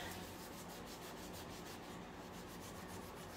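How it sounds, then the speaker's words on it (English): Steady soft rubbing as dirt and old varnish are cleaned off a wooden Empire chest of drawers, a faint continuous scrubbing with light back-and-forth texture and no speech. "so we're just gonna give it a clean up and see what's going on with it"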